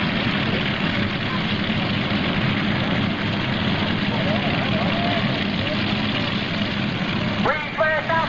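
A John Deere pulling tractor from Eden, Ohio, runs at a 1995 NTPA tractor pull, a loud, low, steady engine drone with a brief change near the end, with an announcer talking over it.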